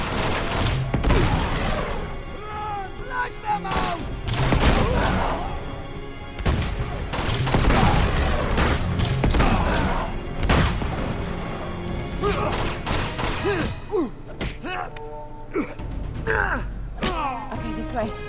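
Grenade launcher blasts and gunfire in the action game Uncharted 2 during a monastery fight, with repeated booming explosions and shots scattered through a dense battle mix, a voice talking over parts of it.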